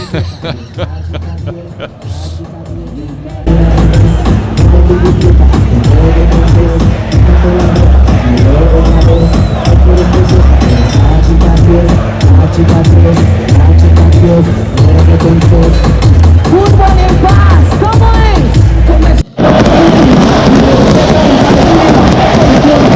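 A packed stadium crowd at a Colombian soccer game before kickoff, with DJs hyping the fans. A loud, dense roar of chanting and singing voices fills the air, briefly dipping before surging again.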